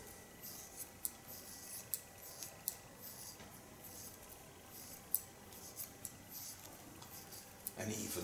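Scissors slice-cutting hair from beneath during a salon haircut, making quiet, crisp snips repeated at an irregular pace, close up against faint background noise.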